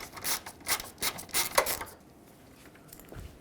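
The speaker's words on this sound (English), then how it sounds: "Let's start by removing this Phillips head screw that screws the corner light into the headlight." A Phillips head screw is turned out of the corner light on a 1996-2002 Toyota 4Runner headlight, giving several short, close scratchy rubbing bursts that fade to near quiet.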